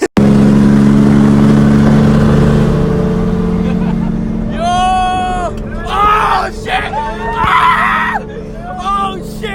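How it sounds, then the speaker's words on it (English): A BMW E46 M3 engine runs with a loud, steady drone, close by. Partway through, loud screams and excited voices from people inside the car rise over it, and the engine keeps humming underneath. "Can't wait to fucking dump the clutch at 5K with them inside."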